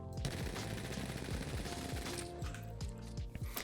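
Rapid hipfire from the RE-45 pistol with a hop-up fitted in Apex Legends, a quiet, fast stream of shots with mechanical clicks, then a short pause before a few more rounds.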